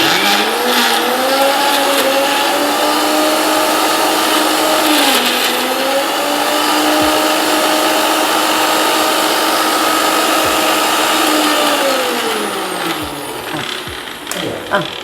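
A kitchen mixer grinder whirs loudly and steadily, grinding onion, chili and ginger into a chutney, its motor pitch dipping briefly near five seconds before winding down toward the end.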